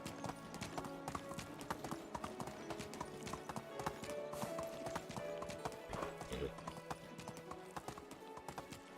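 Horse hooves galloping in the medieval game Medieval Dynasty, a fast, steady clip-clop rhythm over a busy game soundscape, close and continuous for the whole stretch.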